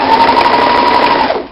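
Sewing machine stitching stretchy fabric for a tube top, a loud, close, steady whirring hum with rapid needle rhythm that runs continuously and eases off at the very end.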